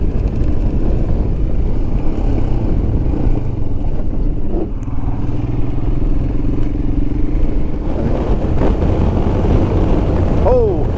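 Steady roar of a Royal Enfield Himalayan motorcycle engine riding down an Iowa back road at about 75 mph, heavy wind buffeting the microphone throughout, with a rising engine whine near the end.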